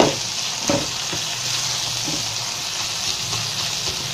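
Garlic, ginger paste and turmeric sizzle and fry steadily in a hot pan, with occasional louder scrapes and clicks of stirring cutting through the continuous crackle.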